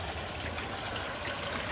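Water flows steadily through a concrete channel with a soft, even, moderately close rushing trickle, heard alone without voices.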